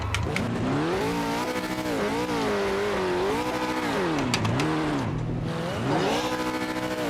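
GT JP2 V8 supercar engine under hard driving, rising and falling through gears in a continuous loud race-car wail, with tire squeal and skidding mixed in throughout.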